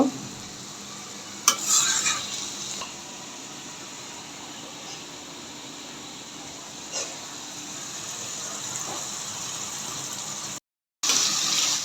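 Hilsa fish head pickle fries in a pan of oil, hissing steadily while a utensil scrapes and stirs in a few short bursts. The sizzle cuts out for a moment near the end, then resumes.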